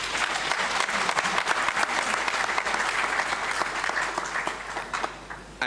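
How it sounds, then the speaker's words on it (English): An audience at a water and sanitation congress applauds a conference panel, with dense, steady clapping that fills the room and fades slightly at the end. "Can we give a round of applause to our panel?"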